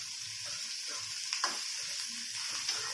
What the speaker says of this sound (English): Just saute it for few minutes so that the rawness and the stickiness of the lady finger will go away